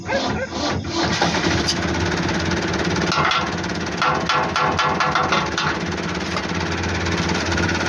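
A tractor engine runs steadily at night during a wheat harvest, a loud continuous mechanical drone with rattling knocks throughout, close by, with faint voices under it.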